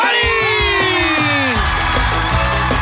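A live audience cheers, whoops and shouts loudly and continuously to welcome a singer onto the stage, a dense crowd roar with raised voices throughout.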